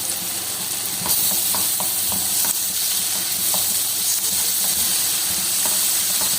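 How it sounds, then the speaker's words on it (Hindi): Spices and dried coriander sizzle and crackle steadily in a hot pan for a potato pea curry, with occasional faint stirring clicks over a constant loud frying hiss. "इसका मसाला अच्छी तरह फ्राई हो चुका है तड़का।"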